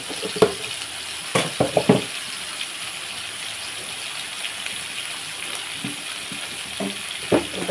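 Bottle gourd pieces fry in oil with turmeric for a tangy curry, giving a steady soft sizzle with occasional clattering stirs and scrapes close by.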